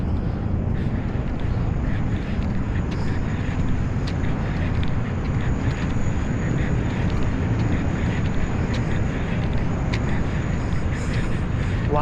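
A Beechcraft aircraft engine drones steadily at Glasgow Airport, a broad, distant rumble mixed with wind noise that holds constant throughout, with only faint hints of voices nearby.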